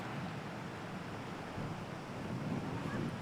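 Steady broadband wind rushing across an open hilltop, a continuous low roar with no voices, holding fairly even throughout.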